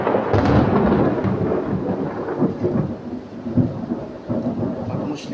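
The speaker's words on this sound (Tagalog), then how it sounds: "Lah, may kidlat." Thunder rumbles through a storm, deep rolling booms with rain hiss behind them, loud and continuous for several seconds with no one speaking.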